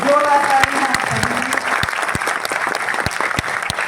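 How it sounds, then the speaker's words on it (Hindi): Loud, dense applause from a crowd at a disaster volunteer group event in Harrai, Chhindwara district, sustained for several seconds with a voice faintly audible at the start. "तो जोरदार तालियां"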